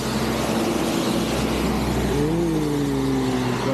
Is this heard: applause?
no